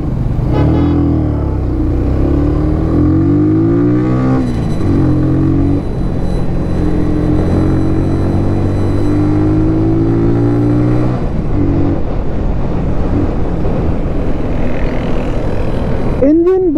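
A Kawasaki W175 Street motorcycle engine runs close by, revving up and down in repeated rising sweeps, a loud throaty drone throughout.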